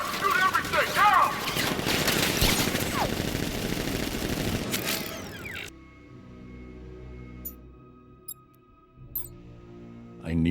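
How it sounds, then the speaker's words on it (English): Rapid gunfire bursts from militia in the video game Batman Arkham Knight, dense and loud for several seconds, with voices over it, then cutting to quieter background with faint isolated sounds. "Open fire! Shoot everything! Now!"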